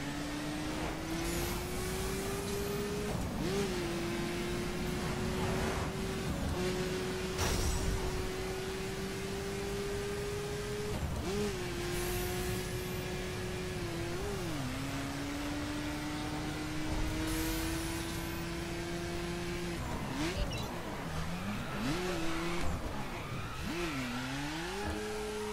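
Mini Countryman Cooper S tearing around a test track at over 400 km/h in The Crew, its engine a steady high whine that climbs and dips with gear shifts, loud and continuous with road and wind rush.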